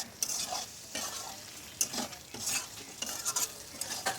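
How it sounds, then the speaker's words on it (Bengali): Pointed gourd and potato sautéing with spices in a pan for a Bengali prawn curry: steady sizzle with repeated scraping stirs of a spatula, several sharper clinks standing out. "খুব ভালো করে সমস্ত মশলাগুলোর সঙ্গে পটল এবং আলুটা কিন্তু কষিয়ে নিতে হবে"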